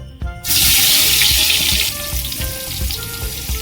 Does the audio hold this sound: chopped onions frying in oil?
yes